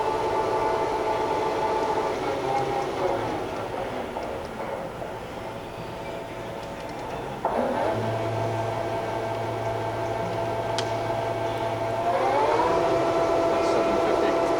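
A Fryer CNC flat bed lathe spindle runs at 500 RPM with a steady mechanical hum and tonal whine. The pitch shifts slightly partway through as the speed changes, and a low drone joins in later.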